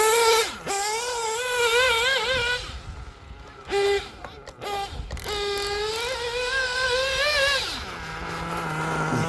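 A Novarossi-powered nitro RC car runs on a dry track, its high-pitched engine whining and revving up and down through repeated acceleration bursts, loud and close, with the pitch dropping to a low idle at the end.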